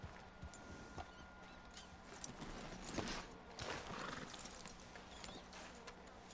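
A horse in the video game Red Dead Redemption 2 moves with soft hoof clip-clops and a brief whinny over a steady outdoor game ambience, at moderate distance and fairly quiet.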